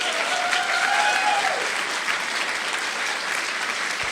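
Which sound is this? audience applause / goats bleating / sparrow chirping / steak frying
audience applause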